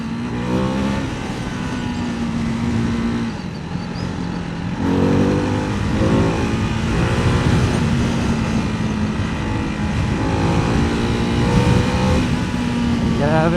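A Ducati Hypermotard 698 Mono single-cylinder motorcycle ridden in road mode, its engine note loud and close as it rises and falls through repeated accelerations and gear changes, with wind noise and a rider speaking over it.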